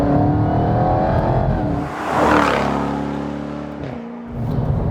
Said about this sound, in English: You've got this mix of supercharger whine, angry V8, and general road noise that is fantastic.